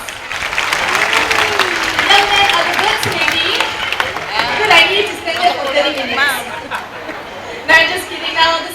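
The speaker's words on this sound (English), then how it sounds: "Give our brave volunteer a big applause." Crowd applause for a brave volunteer at a bird show in Jurong Bird Park, Singapore, with clapping mixed into lively chatter, chuckles and a presenter's voice, plus sharp whistling bird calls cutting through near the end.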